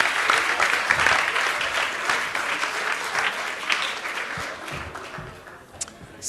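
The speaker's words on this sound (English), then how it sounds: "Applause, please, for Culture Connect." An audience in a hall applauds a presented project, giving a loud burst of clapping that gradually thins and fades, with a few scattered claps at the end.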